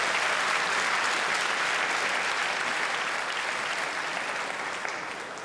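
A large comedy show audience breaks into sustained applause, a dense, even roar of many hands clapping that holds steady and then begins to fade at the end.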